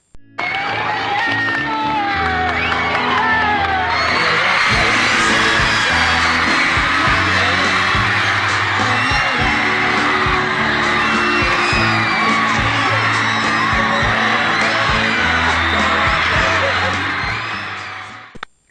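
Crowd of about 3,000 screaming fans greeting the Beatles on arrival in America in February 1964, a dense, loud, continuous wall of shrieks and yells sustained for most of the clip.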